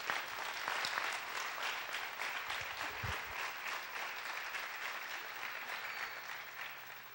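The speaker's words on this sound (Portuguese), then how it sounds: "Podemos dar um aplauso ao Senhor, pelo menos as mulheres." A church congregation applauds during a Feast of Tabernacles morning service, sustained even clapping heard from a distance, fairly faint with a low hum beneath.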